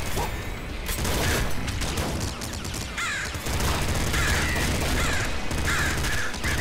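Harsh cawing bursts from crows in the Nuclear Throne video game, repeated several times over dense, noisy game effects and rumbling explosions.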